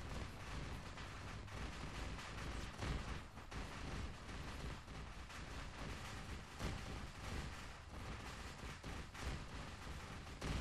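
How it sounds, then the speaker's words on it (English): Gunfire from a Warthog vehicle in the military shooter ARMA 3, heard as a dense, continuous roar of rapid shots and booms that fills the whole stretch at steady loudness. "I hear a warthog firing its gun"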